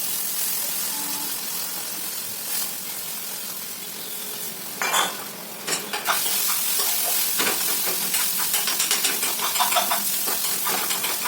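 Poha being stirred into fried onions in a kadhai, a steady soft sizzle with scraping and clinking of the spoon against the pan, louder bursts of stirring midway, no talking.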